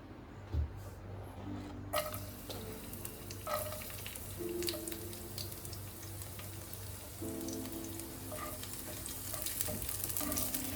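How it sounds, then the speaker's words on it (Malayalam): Chopped garlic sautés in hot olive oil in a pan, giving a soft steady sizzle with occasional stirring clinks and scrapes, heard close and without talk. "നമ്മുടെ ഗാർലിക് ഞാൻ ഇട്ടിട്ടുണ്ട്. ഇനിയിപ്പോൾ നമുക്കിതൊന്ന് നന്നായിട്ടൊന്ന് വഴറ്റിയെടുക്കണം."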